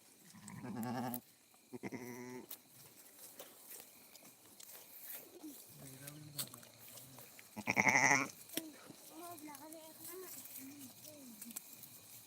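Sheep bleating in a flock: several separate bleats, a couple loud and near, others fainter, spaced over stretches of quieter rustling, with people talking at times in between.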